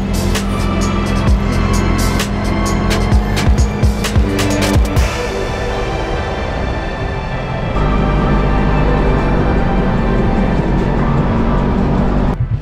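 Brand-new 2021 Polaris RZR 1000 side-by-sides roll out, with sharp clattering and crunching at first that gives way to a loud, steady engine drone and tire noise as they pull away. No one talks.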